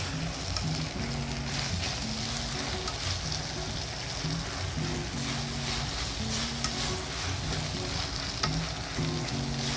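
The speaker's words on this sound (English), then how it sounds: "And mix together over pan edge like this." Yakisoba noodles hiss and crackle as they are stir-fried and tossed against the pan edge, a soft, steady sizzle broken by rhythmic stirring clatter.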